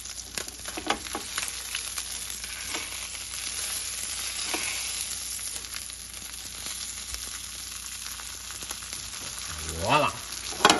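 Flounder fillets sizzle steadily in a hot pan, a constant close crackle and hiss, broken near the end by the scrape and clatter of a spatula flipping them.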